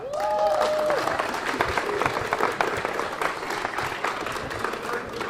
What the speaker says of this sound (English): I would ask for an applause for Pat Klein, Airport Director.